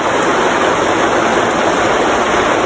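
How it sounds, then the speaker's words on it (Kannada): Steady rain falls in a village near Jewargi, a dense, unbroken hiss that stays loud and even from start to finish, with no talking. "ಮಳೆ ಬರತ್ತದ್ರಿ ಬರಲಿ ಚಲೋ ರೀ ಮಳೆ ಬರತ್ತ"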